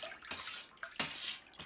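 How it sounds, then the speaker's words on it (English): Water runs into a brewing fermenter being filled with about 17 to 18 litres for an extract batch of Australian bitter, a steady hissing splash with a few brief surges and bubbling gurgles, close and fairly quiet. "So my fermenter will be full of water."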